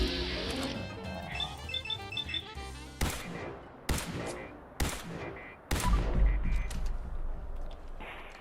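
Gunfire in the video game Fallout 4 with the Misery Island mod: a few sharp, loud shots spaced about a second apart after a stretch of game sound, followed by a heavier rumbling burst.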